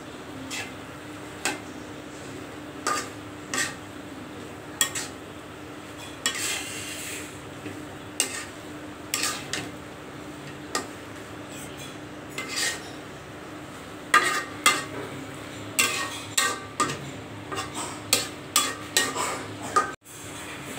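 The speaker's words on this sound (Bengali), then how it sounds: "নাড়িয়ে চাড়িয়ে ভালোভাবে" Kalmi shak (water spinach) with dal being stirred in a metal pan: irregular scrapes and clinks of a spoon against the pan, fairly close and moderately loud, with no talk.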